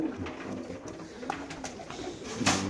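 Racer pigeons in cages at a bird market coo softly and intermittently, fairly close, over a busy background murmur of market noise.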